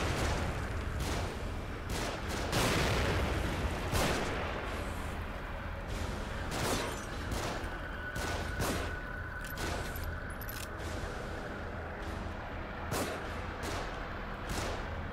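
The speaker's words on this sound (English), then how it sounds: "Shooting from above." Gunfire rains down from above in The Evil Within as sharp, fairly faint cracks and repeated bursts of shots, irregularly spaced over a low background rumble.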